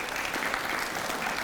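A round of applause from an audience at a 100th anniversary celebration for the Ironton Tanks, a full, steady wash of clapping with no voices standing out.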